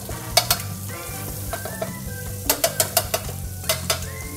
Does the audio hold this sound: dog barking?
no